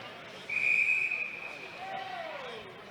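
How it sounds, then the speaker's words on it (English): A referee's whistle blows sharply at a high school ice hockey game in a rink, one long shrill blast followed by a fainter second tone, over low crowd murmur. "And we got a whistle"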